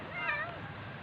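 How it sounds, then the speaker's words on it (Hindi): A cat that has climbed up from below toward a tree gives a single faint, short meow over a steady outdoor background hum, with no voices. "ये देखें, ये बिल्ली है"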